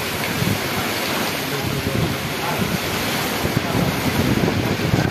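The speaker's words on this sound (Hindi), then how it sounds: "रिमझिम रिमझिम नहीं, बहुत तेज हो रहा है, आंधी भी बहुत तेज आ रहा" Dense, roaring wash of heavy rain mixed with gusting storm wind buffeting the microphone in a village, steady and loud throughout with no voices.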